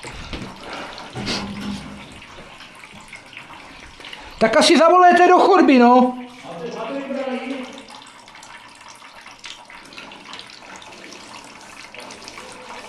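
Water flows through a drain pipe during drain cleaning with a cutting machine, a steady rushing wash running under people talking, with a louder tonal whine rising briefly midway.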